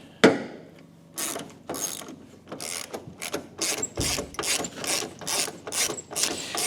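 A ratchet socket wrench clicks in rapid bursts while removing spark plugs from a truck engine, heard close and loud, with short pauses between the strokes and no talking.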